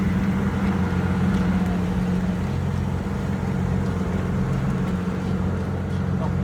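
A BMW M2 race car on a circuit during a BMW championship race weekend, a loud sustained engine drone holding steady throughout, with no clear pass-by swell.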